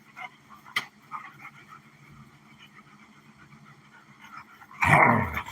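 Two dogs play-fight indoors, with low growls and soft whimpers through a quiet room, a sharp bump early on and a loud burst of scuffling and growling near the end.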